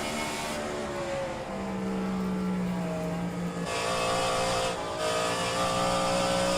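Race car engines at Phoenix Raceway in a racing video game, holding a steady layered drone with a loud pitch sweep from one passing car and constant background engine roar.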